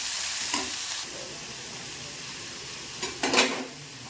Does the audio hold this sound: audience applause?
no